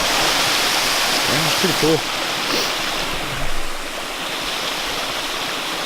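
A waterfall tumbles over rocks in a steady, loud, broadband rush that fills the whole clip, while people talk briefly over it.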